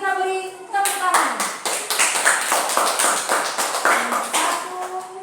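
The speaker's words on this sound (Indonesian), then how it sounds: "Kita beri tepuk tangan." A class applauds a group that has just finished its presentation. Many hands clap in a loud, close, steady burst that lasts throughout, while voices carry over the clapping.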